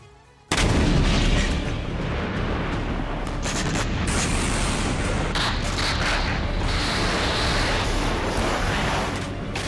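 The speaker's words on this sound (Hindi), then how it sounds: "आर्टिलरी विध्वंसक फायरिंग कर रही है" A sudden, heavy roar of artillery fire bursts in and continues as a dense, loud rumble of booms and blasts, from the Russia-Ukraine war.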